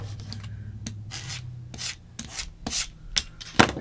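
A rotary cutter trimming the edges of a fabric quilt block under full pressure, a series of short rasping strokes in quick succession with brief pauses between, close and fairly loud, with no talking.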